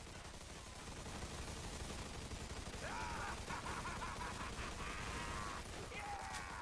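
Gunfire in the Mafia 2 video game, a dense continuous barrage of shots over a loud mixed game soundscape, with brief whistling tones cutting through partway.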